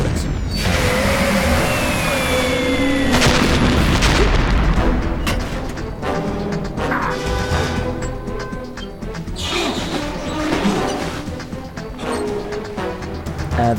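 Booming fireworks in Metal Gear Solid 2 burst as deep, loud thuds and crashes, repeated irregularly over a dense wash of game noise and music.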